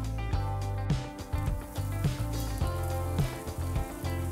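Steaks searing over a live fire on a grill give a steady close sizzle broken by soft irregular pops and crackles, with no voices.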